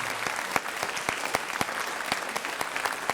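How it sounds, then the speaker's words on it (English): An audience at a 10th anniversary ceremony claps in a steady round of applause, many hands close by with sharp individual claps standing out, sustained throughout with no talking. "So I'm going to ask that we all give a good round of applause to close"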